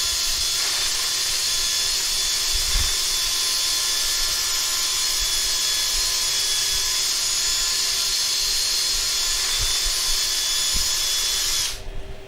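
A steady, high-pitched whirring hiss of 180-grit sandpaper against a wooden bowl spinning on a lathe, continuous and fairly loud, cutting off abruptly near the end.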